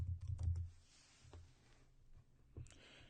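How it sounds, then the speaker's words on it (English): Keys tapped on a computer keyboard while entering a word into a search bar, a quick cluster of close clicks at the start followed by a few sparse, softer taps, quiet and alone. "if I type in engage in the search bar"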